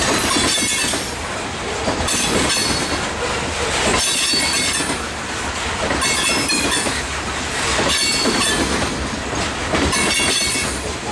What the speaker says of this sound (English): T-408 usually is about at least 100 car loaded coal train going up to Bryce, Cliffside